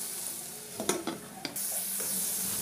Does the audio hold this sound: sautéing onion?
yes